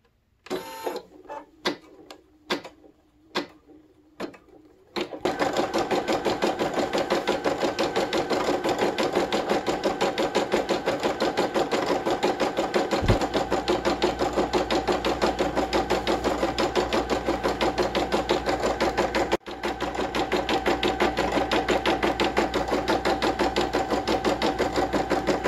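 After a few scattered taps and clicks, an embroidery sewing machine starts stitching a pattern onto fabric Tudor cuffs, humming and clattering in a fast, steady, mechanical rhythm close by, with a momentary pause partway through.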